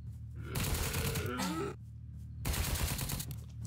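Loud automatic gunfire bursts in Apocalypse Rising 2, two sustained volleys split by a short quiet gap, with a brief whistling or sliding tone between shots.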